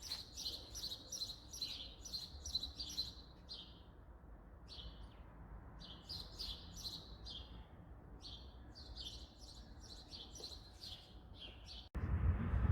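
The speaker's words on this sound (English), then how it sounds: "Birds." Small birds chirp in repeated quick bursts of bright tweets over a soft outdoor hum in Warsaw, with brief pauses between phrases.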